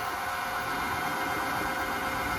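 Bluvall SU8 eBike hub motor spinning unloaded at full throttle, a steady high whine with a broad whirring hiss, close and constant with no talking.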